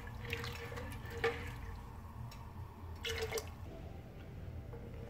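Water is poured into a pot of soaked moth beans, producing faint, close splashing and dripping in a few short bursts.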